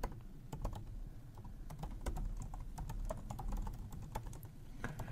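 An email address being typed on a computer keyboard during a Pingvin Share setup on CasaOS, with steady, close clicking keystrokes in irregular bursts over faint room noise and no voices.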